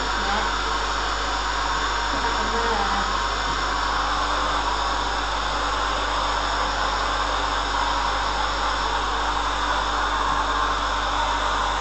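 A hair dryer blows over fresh acrylic paint in an abstract sketchbook, a steady, loud, unbroken whooshing drone lasting throughout.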